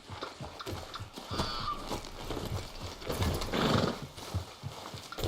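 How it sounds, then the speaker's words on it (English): Horse hooves clip-clop steadily at a walking pace in Red Dead Redemption 2, a rhythmic stream of close, clear hoofbeats with a brief whinny mixed in, and no talk over them. "How's that horse treating you?"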